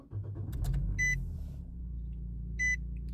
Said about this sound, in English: Let's restart the car.